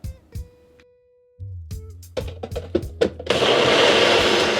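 A kitchen blender mixing coconut milk, mint leaves, sugar and lemon juice: a few clunks and taps while the ingredients go in, then the motor starts with a loud, steady whirring roar that fills the end.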